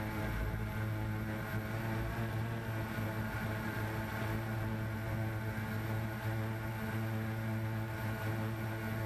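CX-20 quadcopter drone flying in the mountains, a steady whining buzz of its motors and propellers held at an even level throughout, with no talk.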